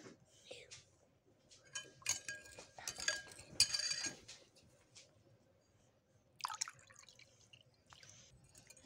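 Cold water is poured for a pudding mix, coming in uneven splashing bursts with dripping and light clinks of dishes and spoons between quieter pauses.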